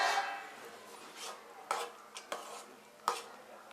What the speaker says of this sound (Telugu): అంతా బాగా కలిసేటట్టు కలుపుకోవాలి.